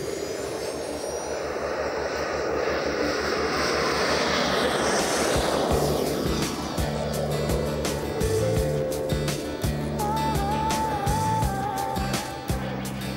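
A small jet turbine engine, idling around 30,000 rpm and capable of 123,000 rpm at full throttle, spools up from a steady roar to a rising high-pitched whine, loud and close throughout.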